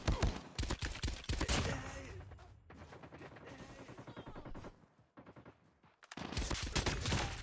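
Rapid bursts of automatic gunfire from Call of Duty Mobile play loud and close, dense volleys breaking off briefly into quieter stretches before resuming.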